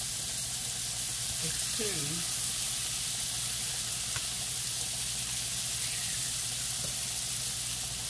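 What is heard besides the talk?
steaks frying in a hot pan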